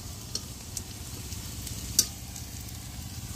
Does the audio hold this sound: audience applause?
no